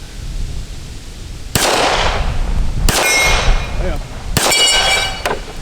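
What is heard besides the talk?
bullet from Remington R1 1911 pistol striking steel plate target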